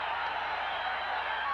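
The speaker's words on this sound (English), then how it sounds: "The crowd coming to its feet." Boxing crowd at a championship bout rising to its feet near the end of a round, a dense, steady roar of cheering and shouting filling the arena at high volume.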